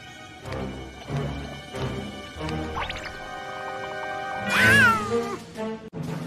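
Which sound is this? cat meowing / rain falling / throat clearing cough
cat meowing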